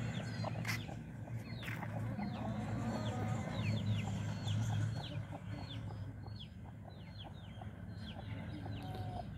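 Farm chickens and chicks cluck and peep, with a loud burst of clucking early on and a busy scatter of high chick chirps throughout, fairly close and with no talk.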